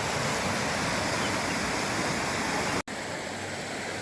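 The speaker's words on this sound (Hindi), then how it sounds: "पानी कुछ तेज़ हो रहा है। पहले जैसे थोड़ा हल्का था, अब तेज़ होना शुरू हो गया।" Fast-flowing stream water rushes over rocks as a loud, continuous, dense roar that fills the whole stretch, broken only by a split-second cut near the end.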